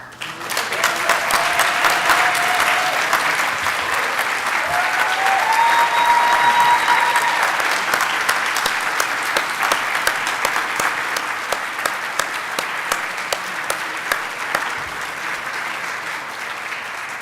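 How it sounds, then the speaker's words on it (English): A long, loud wave of applause from a large room at a closing ceremony in Mexico, dense clapping that holds steady for many seconds and eases slightly toward the end, with faint cheers mixed in. "then give them a huge round of applause"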